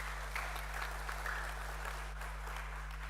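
A gathering at an HKBP church synod prayer meeting applauds, the faint, distant clapping running steadily over a loud low electrical hum.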